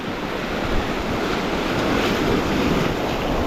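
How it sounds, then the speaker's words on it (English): A river rushes loud and steady in Patagonia, broad continuous water noise mixed with wind buffeting the microphone, with no voices. "look at this river"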